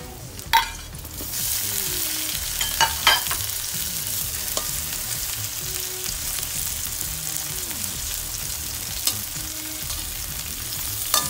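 Tomatoes fry in a pan for Baguio beans with sardines. A constant close sizzle runs under intermittent scraping and clinking stirs of a utensil.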